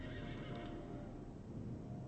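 A horse whinnies over a steady, dense backdrop of game soundtrack and ambience, with faint hoof clip-clop, the neigh itself subdued and blended into the mix.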